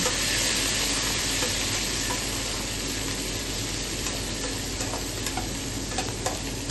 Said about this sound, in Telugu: ఇప్పుడు కొత్తిమీర పుదీనా కూడా వేసేసుకొని ఒకసారి అలా ఒక వన్ మినిట్ ఫ్రై చేసుకుందాం